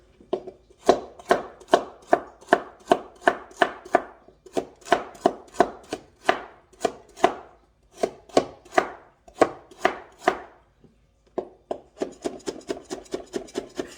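A knife finely chopping carrot on a board, with crisp, close, evenly spaced cuts in several runs and a faster burst at the end.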